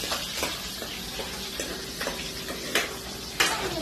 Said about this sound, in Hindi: तड़का लग रहा है।